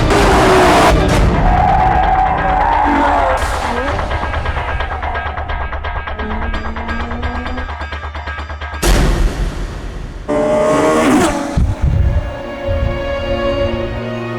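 A loud, high-revving Ferrari F12 engine drops sharply in pitch as it brakes hard on a circuit, then roars back up with gear changes, close and continuous.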